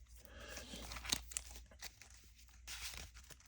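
A deck of Marvel Champions cards being shuffled, soft papery riffles and quick crinkly bursts in a quiet room, faint and close.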